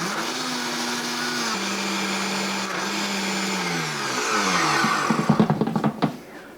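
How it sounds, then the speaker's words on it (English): A large blender whirs steadily as it churns ice cubes into a single portion of ice cream, its motor pitch sagging as the load thickens, then breaking into choppy bursts near the end. "Now my blender is a very large one."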